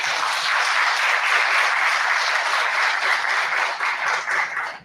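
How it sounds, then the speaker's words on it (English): Listeners at a panel on criminal justice and prison health reform in Africa give the speakers a full round of applause, dense and steady throughout, thinning slightly at the end. "please join me in another round of applause for the speakers"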